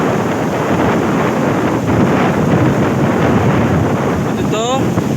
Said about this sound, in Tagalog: malakas ang tapyak ng alon dito sa banda buhangin.